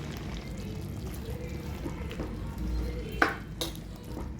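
Tomatoes frying in a pan for an instant tomato chutney, a soft steady sizzle with a couple of sharp spatula clinks against the pan near the end.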